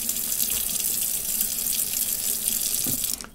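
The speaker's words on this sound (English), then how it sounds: "So I'm done rinsing my squirrel here." Tap water runs steadily into a sink while a skinned squirrel is rinsed under it, a close, loud splashing hiss that cuts off abruptly at the end.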